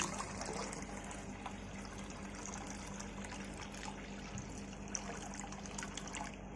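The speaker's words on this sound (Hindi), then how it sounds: "अभी मैं सोच रहा हूँ थोड़ा और पानी डालता हूँ।" Water is poured into a container of diluted ink, giving a faint, steady trickle and splash with no talking.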